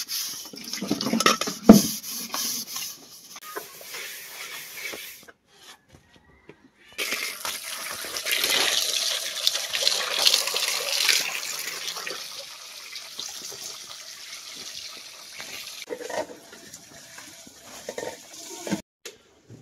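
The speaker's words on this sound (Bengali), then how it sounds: "আমার থালা বাসন ধোয়া শেষ," Dishes being washed under a running tap in a Bangladeshi home kitchen, with broadband water hiss in long bursts, brief pauses, and scattered clinks and clatters of plates and utensils, close and fairly loud, with no talking.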